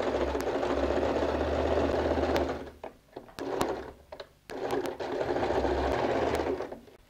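A sewing machine runs a straight stitch through thick recycled denim for a jeans bag, whirring in steady, close bursts broken by short pauses and a few sharp clicks as the fabric is adjusted.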